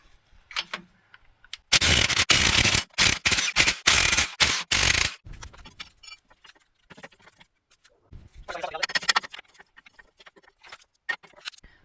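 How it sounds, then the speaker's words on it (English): A tool on a truck backs out 24 mm nuts on the axle U-bolts that hold the springs, making a long, loud rattling burst with a few quick breaks, then quieter intermittent clicks and a softer second burst. "So we're just going to take these U-bolts completely off."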